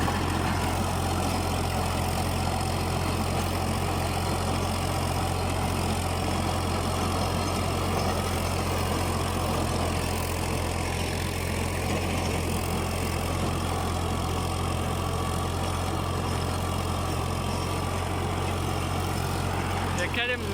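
Tractor engine running steadily with a 42-blade rotavator cutting soil, a loud continuous low drone with strong harmonic hum and broadband churning noise, unchanging for the whole stretch.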